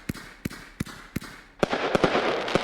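Fireworks in the video game Fireworks Mania pop in sharp, evenly spaced bangs, then burst into a dense, sizzling crackle of rapid small snaps.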